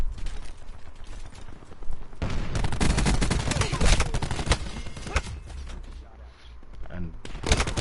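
Gunfire during a Black Ops 4 multiplayer gunfight, overlapping bursts of shots that swell through the middle and then thin out, with a voice speaking underneath.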